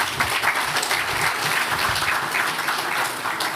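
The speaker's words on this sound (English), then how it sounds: "Let's clap for the champions." At a Ghana Premier League event, an audience claps for the league champions with steady, fairly loud, continuous applause lasting several seconds, with no one speaking over it.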